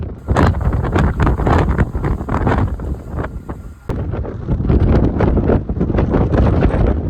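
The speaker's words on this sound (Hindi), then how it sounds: "इतनी तेज हवा चल रही है, आप देख सकते हो चारों ओर।" Strong wind blows across a ski slope in Scotland, buffeting the microphone in loud, irregular gusts and roaring bursts that briefly dip mid-way before surging again.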